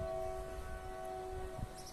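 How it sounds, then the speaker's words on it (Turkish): A passing train sounds a long, steady horn at moderate distance, the sustained tone held for nearly two seconds over rumbling rail noise, with no talking. "Tren de selam verdi."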